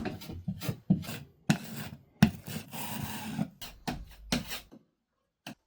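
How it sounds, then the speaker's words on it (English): Spackle or filler being scraped and smoothed into holes in a wall with a putty knife, a series of close, rasping strokes with short pauses between them, ending in near silence. "But it's time to move on to this and start filling in the holes in the wall."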